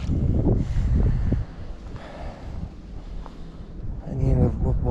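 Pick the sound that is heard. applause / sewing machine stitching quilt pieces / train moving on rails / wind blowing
wind blowing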